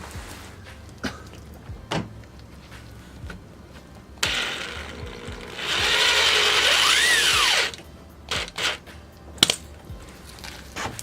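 A power drill drives a screw while a side skirt is fitted to a 2017 Honda Civic Si. A loud whirring burst rises and falls in pitch for about two seconds, framed by scattered clicks and tool handling.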